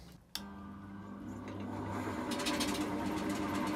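Wood lathe spinning a massive burr, a click followed by a steady low mechanical hum and rattle that gradually grows louder, close and without talking.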